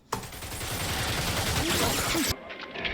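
Gatling gun firing in a movie scene, a dense rapid burst of continuous gunfire for over two seconds that cuts off abruptly, followed by quieter background sound.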